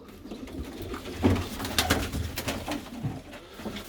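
Breeding pigeons in a coop coo steadily in low, throaty rolling calls, several birds overlapping close by with light rustling and short bright sounds in the background.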